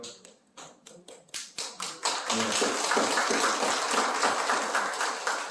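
A church congregation applauds to welcome a member, beginning with a few scattered, separate claps that quickly swell into loud, sustained applause filling the room.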